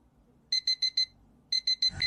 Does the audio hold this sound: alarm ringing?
yes